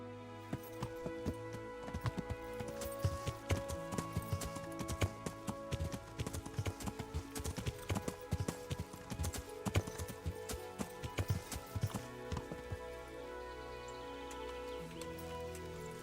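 Horse hooves clip-clopping in the medieval video game Kingdom Come: Deliverance, a steady brisk rhythm of sharp hoof clicks, fairly close and alone, with faint ambient tones beneath.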